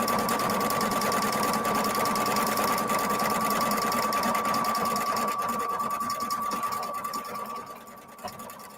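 A Viking Brilliance 80 sewing machine stitches fabric with a steady, fast mechanical whir and a constant high whine, running loud and close before slowing and stopping near the end.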